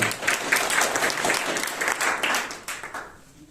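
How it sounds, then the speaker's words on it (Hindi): An audience at a Vivekananda Jayanti youth day event at a Brahma Kumaris centre bursts into vigorous, close applause for the organization, the clapping holding strong before tapering off. "एक बार मैं चाहूंगा ऐसी संस्था के लिए जोरदार तालियां।"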